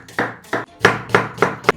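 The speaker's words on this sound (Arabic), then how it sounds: "ونفرم شويه بصل" Onion chopped with a knife on a cutting board, five or six firm, evenly spaced chops close up, in a home kitchen while cooking an Upper Egyptian lunch.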